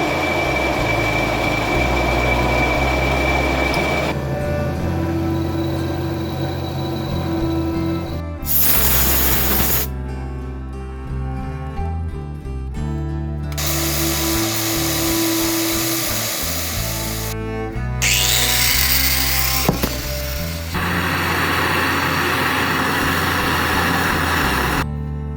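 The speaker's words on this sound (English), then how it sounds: "I'm gonna cut this up, bore this, weld them together" Power tool cutting and boring a metal Harley-Davidson push rod, loud steady grinding and whining in several long bursts separated by brief pauses.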